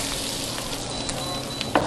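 Flour-dusted fish coated with Old Bay seasoning fries in a pan, a steady close sizzle with small crackling pops throughout.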